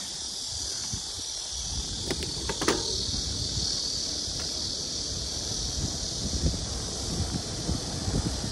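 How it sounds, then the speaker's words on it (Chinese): Cicadas in summer heat along a road near Shanghai keep up a steady, shrill drone that runs unbroken over low wind rumble and the noise of a passing ride. "这知了只要一叫，你就知道这温度"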